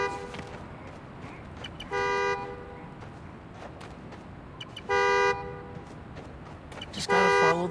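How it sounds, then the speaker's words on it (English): A car horn blares in three separate honks in Spider-Man Miles Morales, each about a second long, the last one louder and closer, over low ambient noise. "The more annoying the horn gets, the closer I am."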